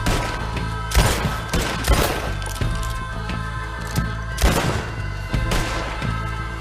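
Gunfire in Red Dead Redemption II, repeated loud close shots and bursts with sharp cracks and woody impacts of bullets striking cover, irregularly spaced throughout.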